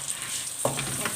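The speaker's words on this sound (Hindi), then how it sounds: "1 टेबल स्पून हल्दी जो हमने दी थी, थोड़ा सा भून देंगे इसे।" Ground turmeric and red chili powder stir-frying in hot oil for a bhindi (okra) dish, a soft steady sizzle that swells suddenly partway through as a utensil stirs the spices, close and moderately quiet with no talking.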